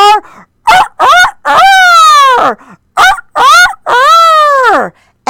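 A person imitates a rooster crowing, a series of loud, drawn-out cock-a-doodle-doo calls, close and alone with short gaps between them.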